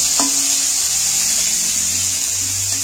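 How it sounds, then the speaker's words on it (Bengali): Capsicum stir-fried in a pan for a semolina and potato breakfast dish, giving a steady hiss of frying throughout with a faint scrape near the start. "ক্যাপসিকামগুলো একটু নাড়াচাড়া করে ভেজে নেব।"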